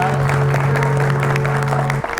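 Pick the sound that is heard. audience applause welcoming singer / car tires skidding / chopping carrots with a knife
audience applause welcoming singer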